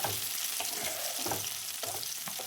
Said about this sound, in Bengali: এবার দিয়ে দিলাম ক্যাপসিকাম, গাজর আর বিনসটা